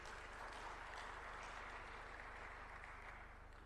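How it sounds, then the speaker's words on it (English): An audience at an e-learning conference gives a round of applause, a continuous, fairly quiet patter of clapping with a low steady hum beneath it. "particularly my fellow Aida, round of applause, please."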